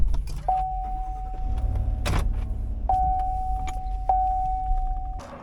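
Getting into a truck and driving: keys jangle, a door thumps shut, and repeated electronic warning chimes sound over a low idling engine and cabin rumble.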